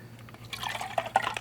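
A water container for watercolor painting is moved, giving a brief, soft slosh and a few small drips and splashes of water at close range. No one speaks.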